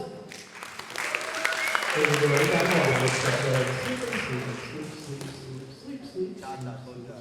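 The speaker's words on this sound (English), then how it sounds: "Give them a huge round of applause." Audience at a high school comedy hypnosis show in Amsterdam claps after volunteers are told to sit, the applause swelling mid-clip over music-like tones and scattered voices.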